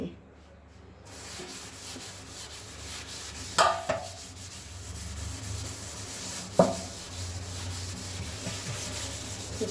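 Close, steady scrubbing of a kitchen sink with baking soda and detergent, a continuous rough rubbing with a couple of sharper knocks along the way and no speech.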